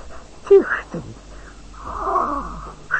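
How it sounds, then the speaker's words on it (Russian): A cartoon cat meows and yowls in a few loud, drawn-out, wavering calls separated by short pauses, close up. "Кот!"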